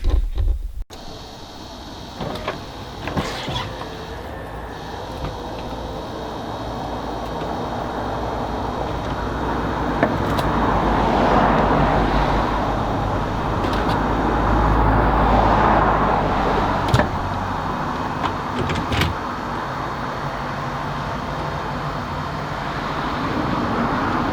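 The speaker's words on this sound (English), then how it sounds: "I'll throw a wee shot of the roof going down just from back in summer" Folding hardtop on a Lexus SC430 convertible with 134,000 miles retracting: a steady electric motor whir and hydraulic hum runs for about twenty seconds, with clicks and clunks as the roof panels move and latch, close and without talk.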